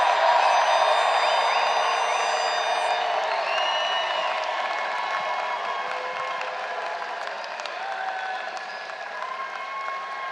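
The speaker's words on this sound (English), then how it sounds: "Come on, give them a nice round of applause." Sustained applause with cheers and whoops from a large audience at a university commencement ceremony honoring graduates, filling the whole stretch and tapering off slowly.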